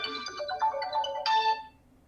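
A mobile phone ringtone goes off during an indoor talk, a short bright melodic jingle of stepped tones lasting under two seconds that then fades out. Nobody speaks over it.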